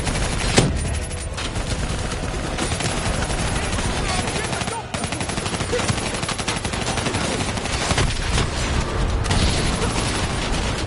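Dense gunfire in the Call of Duty Black Ops 3 co-op campaign during a fight against a VTOL and an APC, loud sustained automatic bursts and booms with shouted voices over the top.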